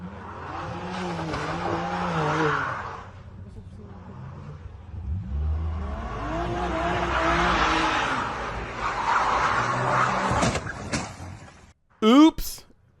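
A BMW M3 CS spins donuts, its engine revving and rising and falling in pitch under tire squeal, close and loud, while someone talks over it and a sharp squeal bursts at the end.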